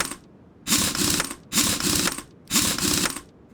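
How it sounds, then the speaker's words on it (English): Three bursts of rapid mechanical ratchet clicking, each about a second long with short pauses between, as wheel bolts are tightened in Car Mechanic Simulator 2021, close and clear with no talking. "Tighten the bolts"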